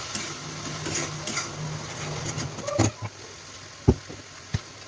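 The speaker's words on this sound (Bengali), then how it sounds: "দিয়ে এবার আবার আমি একটু নাড়াচাড়া করব" A paste of turmeric, cumin and coriander with salt is stirred around a pan for egg malai curry, giving quiet, soft scraping with a few sharp clicks and taps near the end.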